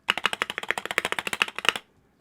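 Spacebar of a Wooting 60HE keyboard, out of the box, pressed close to a microphone: a quick run of about twenty sharp clacks in steady rhythm, loud and alone, ending in silence.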